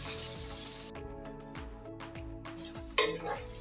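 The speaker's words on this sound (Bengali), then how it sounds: "পেঁয়াজগুলো আমি ভালো করে নেড়ে মিশিয়ে নিচ্ছি।" Chopped onions with whole spices are stirred in a pan, with a sizzling hiss at first and then repeated scraping strokes of a spoon against the metal, ending in a brief sharp clatter.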